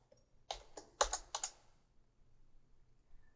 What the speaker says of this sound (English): You can do this by putting your cursor anywhere within the box and beginning to type